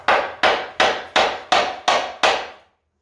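Seven sharp, evenly spaced hammer blows drive a roll pin through shim stock held on a wood block for a quick hitch system on a Kubota BX tractor, each strike loud and close with a short decaying ring, then silence.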